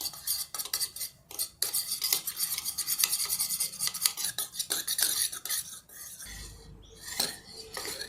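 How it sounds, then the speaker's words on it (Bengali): Chicken legs being beaten with a flour and ground black pepper coating, a utensil clattering rapidly and rhythmically against a bowl in close, continuous strokes with brief pauses. "এর সঙ্গে আমি দিচ্ছি 1 চামচ ময়দা। এরপর আমি এটিকে ভালো করে ফেটে নেব।"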